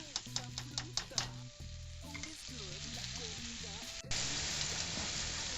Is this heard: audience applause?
no